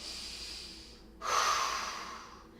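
A single deep belly breath drawn in through the nose during a beginner fitness exercise, a soft hiss that swells suddenly and then fades away, near and clear, alone in a quiet room.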